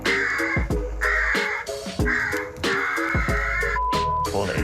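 An electronic distress caller placed on a shed roof blasts loud, harsh crow caws in a repeated series of about six calls with brief gaps, sounding close and insistent.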